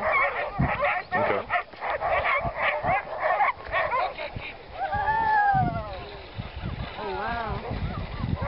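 Sled dogs from a dog team gathered for a mushing event bark in rapid bursts, then give long rising whimpers and whines, close by, with people talking over them.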